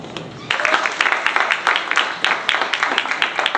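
Audience applause at a breast cancer event breaks out after a half-second of quiet, a dense, steady patter of many hands clapping close by that continues to the end.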